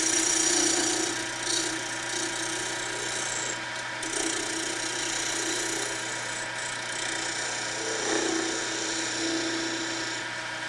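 Wood lathe trimming a spinning wooden piece in a workshop, a steady motor hum with intermittent scraping and cutting passes from the tool against the wood, no voices.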